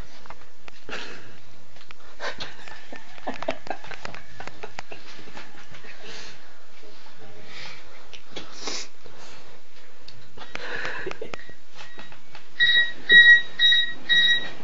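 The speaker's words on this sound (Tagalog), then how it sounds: "Yung alarm, patayin mo yung may ring." A cellphone alarm rings near the end as a short run of bright, repeated electronic beeps. Before it come rustling, sniffing and muffled background noises.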